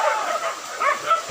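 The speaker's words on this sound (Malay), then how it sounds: "Dapat anjing dulu." A hunting dog yelps and whines in short, strained bursts during a hunt, loud and close, the cries rising and falling over about a second with no clear talk.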